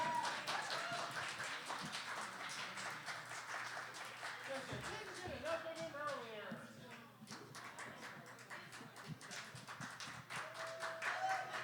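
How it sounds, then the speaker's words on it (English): Open mic audience clapping for the host, a mix of taps and claps running steadily throughout, with voices talking over it and a faint tonal ring near the end. "Please give a huge round of applause."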